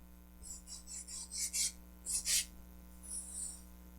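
Fingers rub over dried airbrushed paint under matte varnish in a series of short, soft, close rasping strokes, a few grouped in quick pairs, alone over a faint steady hum.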